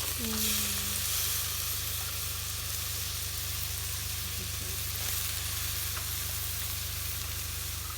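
Eggplant fries in a pan while cooking by candlelight during a power outage, giving a constant close sizzle with a steady hiss throughout. There are faint stirring scrapes and a brief low vocal sound near the start.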